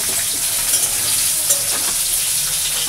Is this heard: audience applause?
no